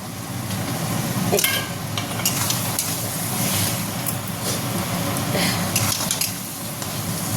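Mutton curry with potatoes being sautéed in a pan, a steady low sizzle under continual stirring, with frequent metallic scrapes and clinks of a spoon against the pan throughout.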